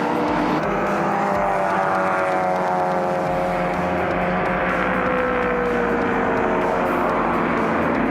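Race car engines roar continuously at a track, a dense, loud mechanical drone with shifting pitch as cars work through the last corners, no pause in the noise.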